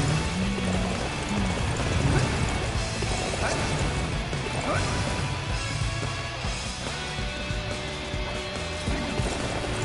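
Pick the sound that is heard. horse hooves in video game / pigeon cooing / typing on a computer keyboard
horse hooves in video game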